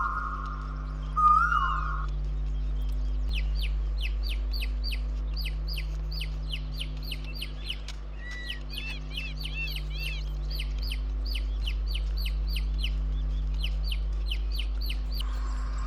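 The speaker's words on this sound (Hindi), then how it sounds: "नेचर के अंदर चारों साइड से पक्षियों की आवाज़ें आ रही हैं।" Many birds chirp and call all around in the natural surroundings of a Himalayan hill station, a busy chorus of short, repeated notes over a steady low background hum.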